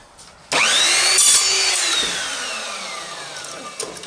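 An Evolution Rage 4 saw blade bites into carpet or lino trim with a sudden loud whine-and-grind, holding steady for a couple of seconds before the blade spins down in a long falling tone.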